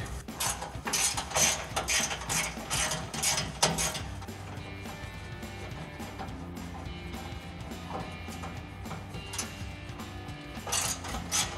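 Ratchet with a 10 mm socket removing spare-tire heat shield bolts on a Jeep Gladiator JT, clicking in rapid repeated bursts, then a quieter stretch of rubbing and faint mechanical noise before a final burst of ratcheting.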